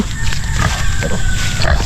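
A sow and her piglets on a farm grunt and squeal together in a close, continuous, noisy stretch of oinking.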